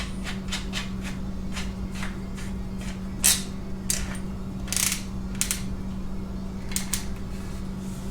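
Ratcheting nut being turned by hand on a CZ 1012 shotgun, giving a run of quick, light clicks in uneven bursts, close up, over a steady low electrical hum.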